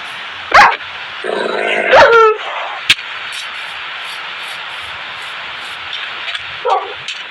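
A dog in a blocky craft-world video game barks a few times, sharp isolated barks spread across the stretch over a steady background hum, with a brief voice near the end.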